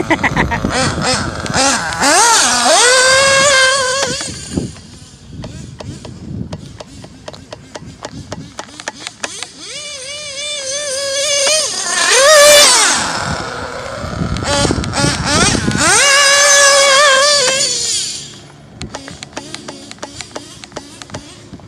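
A modded Pico P3 drifting on deep grass produces bursts of high, buzzing motor revs that rise and fall in pitch, with quieter gaps of rustling and knocks between them.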